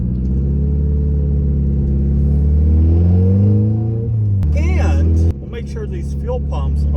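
Chevrolet Cruze with an all-wheel-drive swap, new rear suspension and upgraded fuel pumps, engine rumbling and rising under acceleration from inside the car, then easing off, with someone talking over it.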